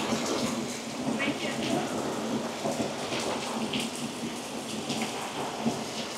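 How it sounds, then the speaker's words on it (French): Steady heavy rain pours down in Orlando, with low rolling rumbles of thunder after lightning and occasional sharper drops hitting a nearby surface. "Ah, ça va sonner fort, là. J'ai viens de voir un éclair."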